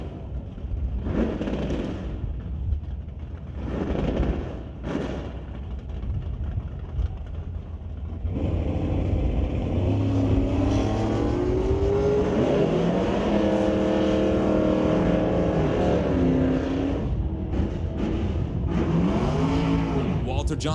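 A Chevrolet and a Chevelle make a drag race pass at a bracket race: after short bursts of engine noise, loud engines roar steadily and rise in pitch through the gears for the rest of the run, with crowd or commentary noise underneath.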